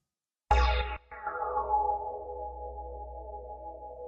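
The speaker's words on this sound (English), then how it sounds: "Now we can hear the mod envelope controlling the layer's volume." A single Omnisphere synthesizer layer struck once, its volume shaped by a mod envelope: a bright attack that briefly dips, swells back, then sustains and slowly fades, heard alone.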